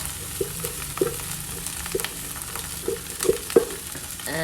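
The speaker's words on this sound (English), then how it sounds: "Well, stir well, guys. Stir well." Rice being stirred for Indonesian nasi goreng in a frying pan gives soft scraping scuffs at an uneven pace over a low steady sizzle, close and moderately loud.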